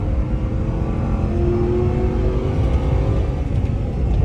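A Corvette engine pulls hard on a race track, a steady loud drone with rising harmonic tones as it accelerates through the gears, continuous and close throughout.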